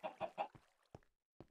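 Chickens in the Minecraft Agrarian Skies modpack cluck in a quick run of three bright clucks, then a few softer, scattered clucks fade out. They are close and fairly quiet, with no talking.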